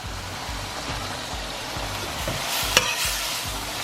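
Veggie chunks simmer and sizzle in a pan, Caribbean style, while a spoon stirs them with soft repeated scraping strokes under a steady bubbling hiss, one sharper clink near the end, and no talking.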